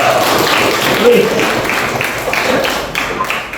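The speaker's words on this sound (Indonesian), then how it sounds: "Saya tepuk tangan lagi" Students in a university lecture session clap for a good question, a brief patter of hands that settles into a few regular claps beneath a speaking voice.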